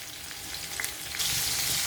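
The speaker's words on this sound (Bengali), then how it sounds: "এগুলোকে বেশি ফ্রাই করবো না হালকা ফ্রাই করে নেব" A close, steady sizzle as ingredients fry lightly in a pan, with a few stirring scrapes partway through and the hiss swelling louder near the end. No voices.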